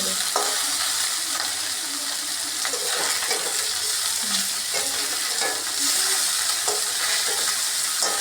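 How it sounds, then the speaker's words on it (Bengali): Small chapila fish frying in mustard-oil style pan cooking after being turned over, a steady close sizzle with scattered clinks and scraping of a spatula throughout, no talking. "এখন আমি মাছটা উল্টে নেব।"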